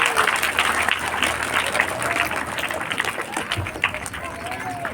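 A crowd at a school independence day celebration applauds loudly and continuously, many hands clapping at once, with a murmur of voices and a few shouts beneath the clapping.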